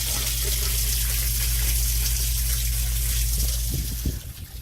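A half-horsepower Liberty sump pump switches on, a low mechanical hum droning steadily beneath rushing meltwater, then shifting with a couple of thumps near the end as the flow changes.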